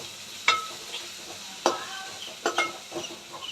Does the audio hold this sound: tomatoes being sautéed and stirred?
yes